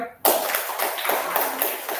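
Students in an elementary classroom break into a burst of clapping, a lively patter of many small hands that starts abruptly and carries on fairly close, with voices faintly mixed in.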